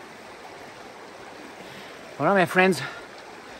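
A small stream flows steadily near Poenari Fortress, a soft continuous wash of water close by, with a brief spoken phrase rising over it near the end.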